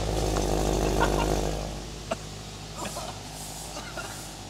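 A straight-piped BMW E92 M3 idling with its exhaust valves closed makes a loud, deep, raspy drone up close. It fades to a quieter burble after a couple of seconds, with a few faint clicks and knocks.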